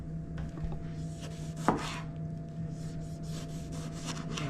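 A knife slices tomatoes into rounds on a cutting board for a salad, a soft, steady run of close, quiet cuts with one sharper tap against the board.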